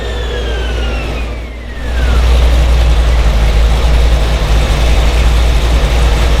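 Dual Cadillac CTS-V engines run loud and steady, a deep heavy rumble that swells after a brief dip and holds at high volume, with a faint whining tone sweeping down early on.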